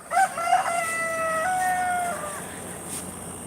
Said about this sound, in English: And I'm being followed by chickens.